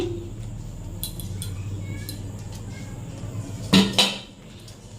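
A new metal pot, its lid and a kadai are handled, with light scrapes early on and then a sharp pair of loud metallic clanks near the end, close by and with no one talking.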